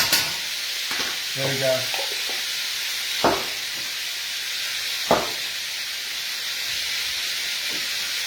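Garlic and ginger sizzle steadily in hot oil for a blue crab dish, a constant close hiss with a few sharp knocks of stirring and a brief spoken remark near the start.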